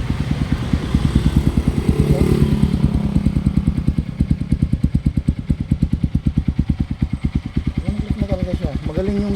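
Honda XR150L enduro motorcycle engine starting with one press on a cold morning, then settling into a steady, close, loud single-cylinder idle with rapid even pulses that continue to the end.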